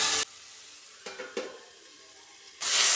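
Small chopped coconut pieces fry in a pan for a village-style chicken curry, a soft steady sizzle with a few stirring scrapes, bracketed by louder bursts of noise at the start and end.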